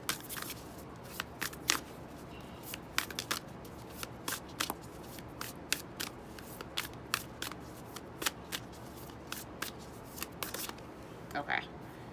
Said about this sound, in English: This is my Moonology deck.